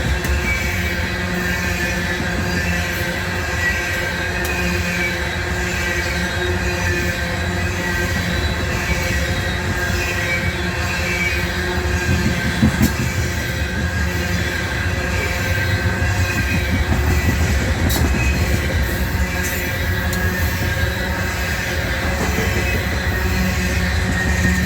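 Northbound CSX coal train with locomotives and distributed power rolling past through Abbeville, a steady loud roar of rail cars and wheels with occasional squeals and clicks, continuous for the whole stretch with no talk.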